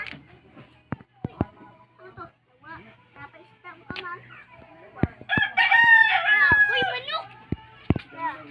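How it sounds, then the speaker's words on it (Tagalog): A rooster crows loudly in the middle, a long wavering call standing out over scattered talk, clicks and household noise. "Si manok."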